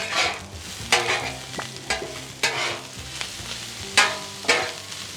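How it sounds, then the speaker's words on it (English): Sesame seeds toast on a Blackstone griddle under a gentle sizzle, with a spatula scraping and stirring in repeated sharp strokes about once a second, close by and without speech. "I've got some sesame seed. You guys know I love toasting this off."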